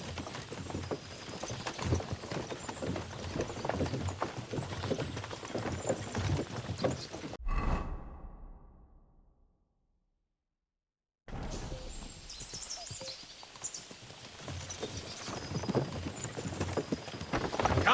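Horse hooves clip-clop at a steady walk in the medieval game Kingdom Come Deliverance II, moderately close with a faint outdoor ambience. The sound cuts out to silence for several seconds midway, then the walking resumes.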